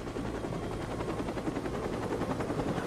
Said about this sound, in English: Oh, the fucking helicopter is coming.